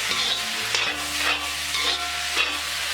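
Chopped tomatoes are stirred into frying masala in a pan, a continuous close sizzle with repeated scraping strokes of the spoon, steady and loud with no talk.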